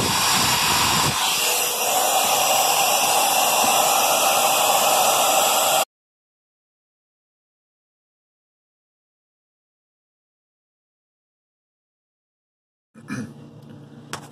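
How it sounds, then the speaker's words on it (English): An Unger 1095 heat gun blows hot air onto a stuck Frigidaire ice machine to thaw it, a loud steady rushing hiss for about six seconds, then silence, then a brief return of the blowing noise at the end. "Got myself the Unger 1095. It's a heat gun. Gonna blow that on everything back there and see if I can get it loose."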